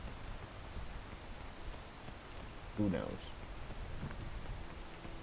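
Steady rain hisses throughout a video game scene, a soft even wash under the play, broken by a brief louder clatter near the middle.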